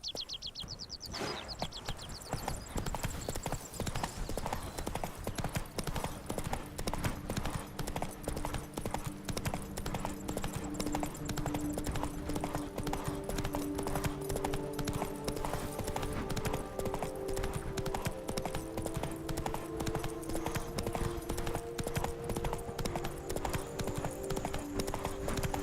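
Roach the horse gallops in The Witcher 3: Blood and Wine, a fast continuous hoof clip-clop running the whole time under layered game music, with faint bird chirps early on.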